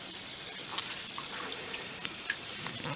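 Water from a 12-metre bore pump outlet runs in a steady, faint, hissing trickle, with a few small splashes and drips scattered through it and no talking.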